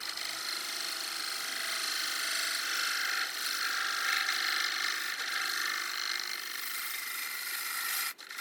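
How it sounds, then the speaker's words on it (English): A bottoming bowl gouge cuts the bottom of a wooden burl spinning on a lathe, giving a steady, loud, hissing scrape that holds evenly for several seconds before a brief drop near the end. "I'm just going to use my bottoming bowl gouge here to finish the bottom area"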